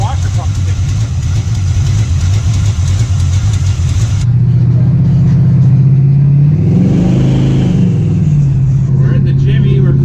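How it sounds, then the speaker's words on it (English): A 1976 GMC Jimmy square-body truck cruises along, its engine droning loud and steady from inside the cab, with a rising rev and a shift partway through. "We're in the Jimmy, we're cruising."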